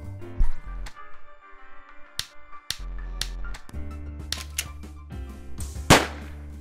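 A gun fires in the stealth video game Spy at Gunpoint: a few sharp, snappy pops scattered over steady game music, with one louder crack near the end.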